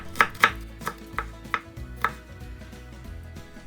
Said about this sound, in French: on coupe l'échalote en deux et on cisèle le tout